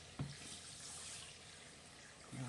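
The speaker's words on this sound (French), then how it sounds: "Voilà, je mets 500 g d'eau." Water streams steadily into a pot holding 250 g of fragrant rice, a soft continuous pour of 500 g of water with faint knocks at the start and end, close by and fairly quiet.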